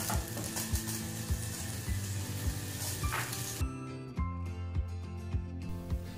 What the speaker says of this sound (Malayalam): ഇത് നമുക്ക് തവയിൽ വെച്ച് ഫ്രൈ ചെയ്തെടുക്കാം.